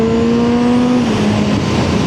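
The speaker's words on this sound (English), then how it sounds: "Another R8. Lamborghini. Lamborghini. Lamborghini." A Lamborghini sweeps past on a road, its engine a steady, loud drone whose pitch drops slightly as it goes by.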